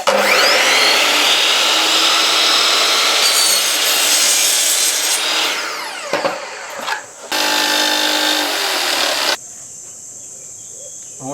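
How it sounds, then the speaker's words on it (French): A miter saw whines loudly as it cuts through laminate for several seconds, pauses briefly, then buzzes again before dropping to a lower motor hum. "Alors on va régler donc la scie onglet à 45 degrés. Et on va faire la coupe."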